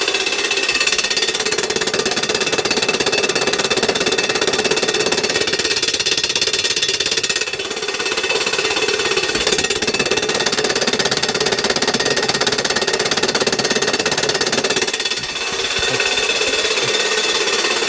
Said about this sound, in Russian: это станок, да, станок это прибор, гравилометр называется. Он имитирует попадание камня в лакокрасочное покрытие на скорости 150 км в час